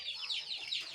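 Chickens in a village chicken house, quick high clucking and peeping in short repeated bursts, faint and brief with nobody speaking.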